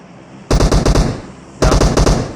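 DP machine gun fire in PUBG Mobile on the Erengel map comes in two loud, rapid bursts of about five shots each, close and sharp, separated by a short pause.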